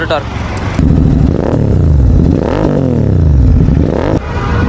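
A Royal Enfield Continental GT 650 fitted with an aftermarket exhaust starts up and revs loudly up close, its deep engine note rising and falling over several seconds before settling.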